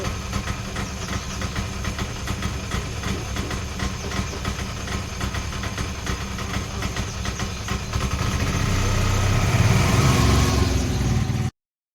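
A vehicle pulls up to collect a child for school, its engine running steadily nearby and growing louder and rougher toward the end before cutting off abruptly.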